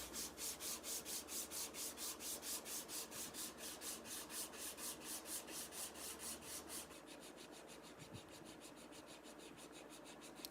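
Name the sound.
sanding wood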